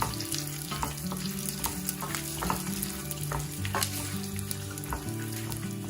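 Coriander seeds and peanuts for gongura chutney roast on a low flame with a soft crackle and frequent light scraping and rattling as they are stirred, over quiet background music.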